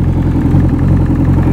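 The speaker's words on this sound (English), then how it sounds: "And so that's your engine running in a nutshell." A 90 horsepower Evinrude FICHT outboard motor runs steadily up close, a loud, even low drone with a fine rhythmic mechanical patter and no break.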